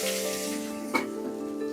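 Fish fries in an iron pan with a steady close hiss and crackle of hot oil, and a single brief clatter breaks in midway.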